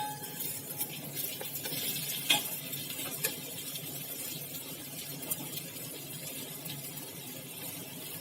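Potatoes are tipped into tomato masala frying in oil for a potato curry and stirred through. A steady close sizzle runs under scraping spoon strokes, with a couple of sharper clacks against the pan. No one speaks.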